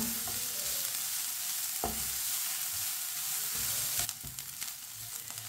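Carrots frying and sizzling in a pan as a spoon stirs them, a steady close hiss with a few sharp scraping clinks of the spoon against the pan.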